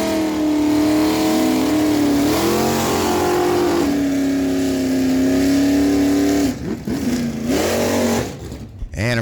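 Drag racing cars, an 83 Chevy Camaro and a 68 Chevelle SS, rev loudly and close with sweeping engine pitch changes, then sharper bursts of acceleration near the end, as an announcer talks throughout.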